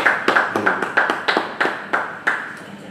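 Audience clapping at a church Bible study, heard as a scattered, fairly close run of claps with a steady beat over about three seconds and no talking.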